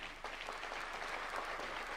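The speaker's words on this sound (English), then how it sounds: "A round of applause, please." Graduation ceremony audience at the National Defence University in Kenya giving a brief round of applause, dense clapping from many hands heard alone for a couple of seconds.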